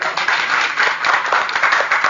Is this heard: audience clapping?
yes